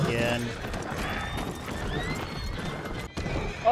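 Horse hooves clip-clop and a horse neighs in the Red Dead Online video game, with the hooves steady and fairly loud while someone talks over them.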